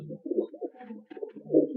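A pigeon coos up close, a few low throaty rolling calls in quick succession, with no other sounds around.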